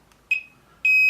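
An electronic low-battery voltage alarm on a radio transmitter sounds two sharp tonal bleeps, a short one followed by a longer sustained one, loud and close with no speech.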